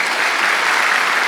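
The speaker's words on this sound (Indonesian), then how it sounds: "Tepuk tangan bagi Allah kita." Steady applause from a church congregation during a service, dense and continuous throughout, with no talking over it.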